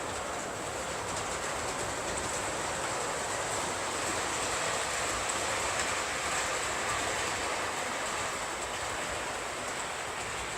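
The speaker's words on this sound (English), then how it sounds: "this Hornby software just sends a random train into reverse" A Hornby model railway train runs in reverse, giving a steady, continuous rolling rumble and hiss with a faint high whine throughout and no talking.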